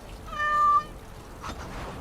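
A single clear cat meow from the video game Dragon Age: Origins, short and tonal, followed by quiet background ambience with no talking.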